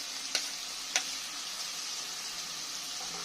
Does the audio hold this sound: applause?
no